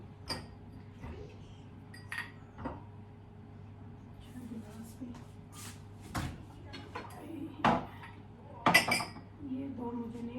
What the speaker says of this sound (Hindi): जो बर्तन धोने वाले हैं उनको धो लेती हूँ